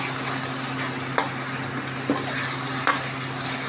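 Beef skin and tripe sizzle in a pan with sautéed garlic for kare-kare, a steady close frying hiss with a low hum beneath and three faint clicks of utensils.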